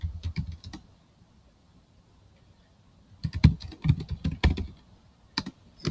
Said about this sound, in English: we're going to call it